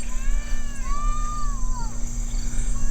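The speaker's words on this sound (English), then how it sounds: "those are kids yelling at each other" Children yelling at each other far across a valley, drawn-out wavering calls carrying faintly over a steady background hum and hiss.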